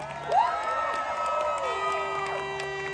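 Spectators at a St. Patrick's Day parade in Sunnyside, Queens cheer and whoop in a dense, lively roar, with rising shouts and high whistles over a continuous crowd din.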